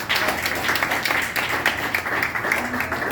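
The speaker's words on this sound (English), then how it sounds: "Let's give him a round of applause" An audience at the handover ceremony of the Pinedale Community Center gives Pastor Palmer a round of applause, a full, continuous wash of many clapping hands at moderate distance.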